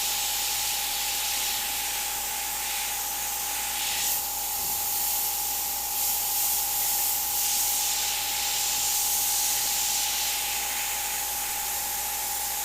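An airbrush spraying paint on a Jack O Lantern mummy, giving a continuous loud, close hiss that holds steady throughout with slight swells in intensity and a constant tonal whine underneath.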